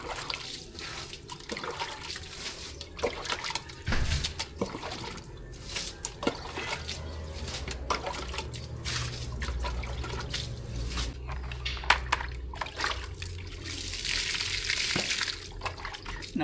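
Clear water flows steadily and quietly, a soft continuous trickle broken by scattered drips and light splashes, with no talking.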